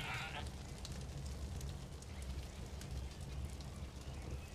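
A sheep bleats in the Far Cry 5 video game. A steady, loud fire-like crackle and rush runs underneath throughout.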